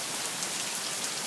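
Steady rain falls in Lake Charles, a dense, continuous hiss of drops striking surfaces, even and unbroken throughout with no voices.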